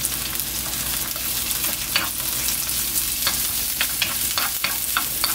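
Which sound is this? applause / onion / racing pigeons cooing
onion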